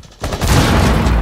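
Grenades exploding amid gunfire in Rainbow Six Siege, a sudden loud blast that turns into a sustained roaring, rumbling barrage of overlapping detonations and shots.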